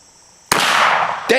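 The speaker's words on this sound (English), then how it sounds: "So he's going to bring it out to the field and test fire it." A .22 Magnum firearm test-fired outdoors in a field gives a sharp, loud report with a decaying tail, and a second abrupt crack follows just under a second later.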